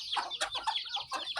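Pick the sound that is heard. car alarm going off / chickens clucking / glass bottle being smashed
chickens clucking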